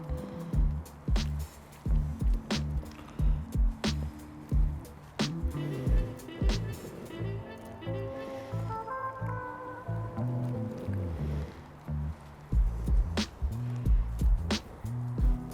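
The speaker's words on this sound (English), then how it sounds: "And then I'm going to drop in stale bread. And just stir that." Stale bread being stirred into a pot of ribollita soup makes wet, squelchy squishes and soft knocks that come in irregular bursts, close up.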